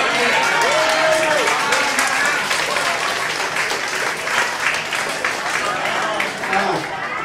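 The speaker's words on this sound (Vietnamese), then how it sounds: "bây giờ mình cho một tràng pháo tay cho các bạn ở xa tới trước" A large audience applauds continuously, dense clapping filling the room, with a few voices and cheers rising from the crowd.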